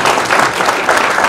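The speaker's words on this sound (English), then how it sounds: "can we just give a round of applause to our moderators" Audience applause at a business mediation event, a steady wash of many hands clapping together, fairly loud and continuous throughout.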